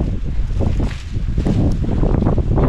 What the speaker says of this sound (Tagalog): Buti na lang mahangin.